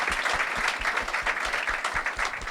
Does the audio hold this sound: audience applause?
yes